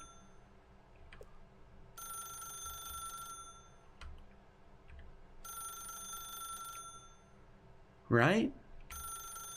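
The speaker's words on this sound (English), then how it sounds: "Now pick up the phone." A phone rings in the video game The Stanley Parable: Ultra Deluxe, an electronic ring repeating in regular bursts beneath a person talking, with a sharp louder sound near the end.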